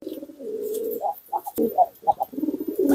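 High-flying tinggian pigeons coo close by, a sustained low coo followed by several shorter, throaty bursts in an uneven rhythm.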